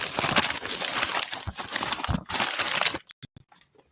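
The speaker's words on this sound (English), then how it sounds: "Just a clear plastic bag." Clear plastic bag being handled and crinkled at close range, dense rustling and crumpling that breaks into a few short separate crackles at the end, no talking over it.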